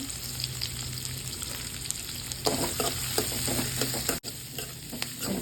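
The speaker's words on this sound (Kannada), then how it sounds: "ಈಗ ಈರುಳ್ಳಿ ಹಾಕ್ಕೊಳ್ಳೋಣ" Finely chopped onions frying in a pan with dry red chillies and hing, a steady close sizzle that swells midway with stirring clatter and a brief scrape near the end.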